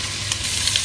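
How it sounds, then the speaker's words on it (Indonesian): Garlic, onion and curry leaves fry in a pan, giving a steady close sizzle with light stirring scrapes and a few brief crackling pops, and no talking. "Masukkan bawang putih. Masukkan bawang merah. Masukkan daun kari."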